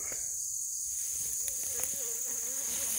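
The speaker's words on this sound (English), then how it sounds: "Ben, you're a little gun shy of that bee" A bee buzzes near a high-tensile wire fence outdoors, a thin wavering drone that rises and falls as it moves close by, over steady bright background noise.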